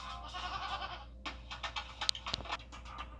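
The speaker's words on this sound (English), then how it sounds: "What's with all the goats?" Goats bleat in a TV advert for an injury law firm, several short quavering calls followed by a scatter of brief sharp bursts, fairly faint and without speech.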